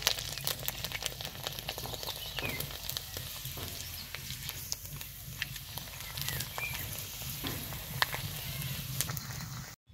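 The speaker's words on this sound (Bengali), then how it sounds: "এইভাবে আমি ভেজে নিব সবকটা" Sago papads deep frying in hot oil give off a busy, crackling sizzle, close and steady throughout, with sharp pops and spatters scattered over a continuous bubbling hiss and no voices.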